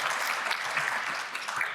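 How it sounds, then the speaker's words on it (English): Applause from a conference audience at a professional talent event, thanking a panel: steady, dense clapping that fills the whole short stretch at even volume, with no talk over it. "Round of applause."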